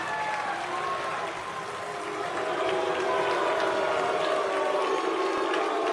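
Applause rises in El Salvador's parliament during the president's address to the nation, a moderate wash of clapping mixed with crowd voices and a few sustained shouts.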